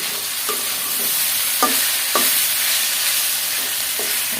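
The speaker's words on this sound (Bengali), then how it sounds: "এখন এগুলা খুব ভালো করে ভেজে নেব।" Chopped potatoes stir-fried in a pan, a dense, loud, continuous sizzle with a few soft spatula scrapes and knocks at irregular intervals, close up and free of speech.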